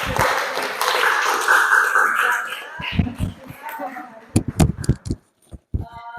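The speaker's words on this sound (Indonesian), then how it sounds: "tepuk tangan buat teman kalian yang sudah" Students in an Indonesian classroom applaud a classmate with a dense burst of clapping, followed by a few scattered, separate claps. Speech from the class rises under it.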